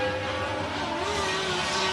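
A race car engine runs steadily on a dirt track during a Firebird event, a loud continuous drone with sustained tonal harmonics and a slight rise in pitch midway, without a break for the full two seconds.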